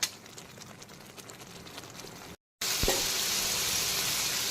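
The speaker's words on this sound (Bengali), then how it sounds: "তো এখন কিন্তু পুরো মশলাটা খুব সুন্দর করে কষিয়ে নিয়েছি" Masala paste for a Bengali prawn curry (chingri bhuna) sizzling and frying in a pan over low to medium flame, a steady close hiss with a short break and faint clinks of stirring.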